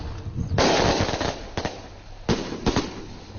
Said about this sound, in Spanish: Petardo en el cielo.